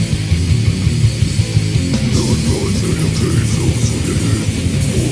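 Swedish death metal, a dense, loud wall of distorted guitars and pounding drums that runs continuously without a break.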